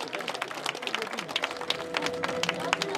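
An audience at a knightly sword-fighting tournament claps for the winner, with a brisk patter of scattered handclaps under an announcer's voice.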